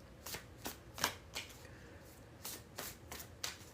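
A deck of oracle cards being shuffled in repeated quick riffling bursts, about nine crisp papery flurries spaced evenly, close and fairly quiet with no talking.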